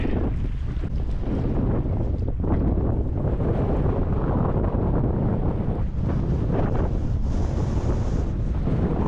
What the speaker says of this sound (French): Ah, le vent.